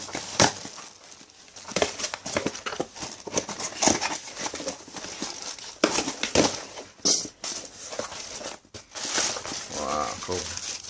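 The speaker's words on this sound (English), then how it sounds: "So I'll unbox it for you. With my trusty pair of scissors" A cardboard package is opened with scissors: sharp snips, crinkling and rustling of packaging come in irregular bursts at close range, with brief crackles and tearing throughout.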